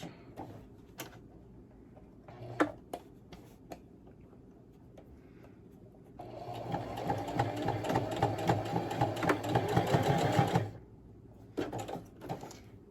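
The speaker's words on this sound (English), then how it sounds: "And I just stitch close to the edge on that." A sewing machine stitches close to the edge of a 3D octagon fabric face mask in one steady run of about four seconds, loud and near, framed by quieter handling clicks and taps before and after.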